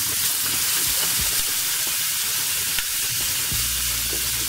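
Onions hitting a hot pan where seal shoulder is browning, a loud, steady frying hiss and crackle that fills the whole stretch at close range, with no one talking.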